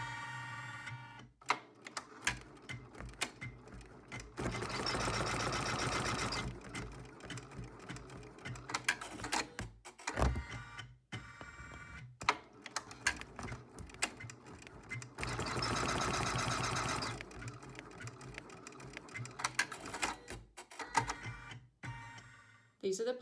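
An embroidery machine stitches placement lines for a vinyl zipper pouch, rapid rhythmic mechanical clatter running in two long bursts with pauses and clicks between, while a person talks throughout.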